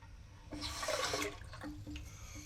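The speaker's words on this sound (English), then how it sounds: "We have water." Water gushing briefly from a tap or pipe, rising into a splashy rush then easing into trickles and drips, fairly close.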